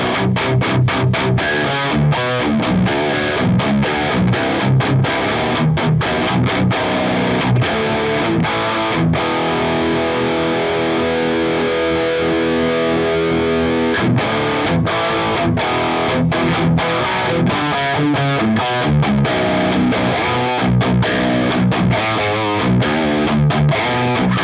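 Heavily distorted electric guitar churns out chugging, palm-muted riffs through a 5150 high-gain amp model on a Fractal FM3 or Axe-FX, thick and saturated, loud and continuous throughout.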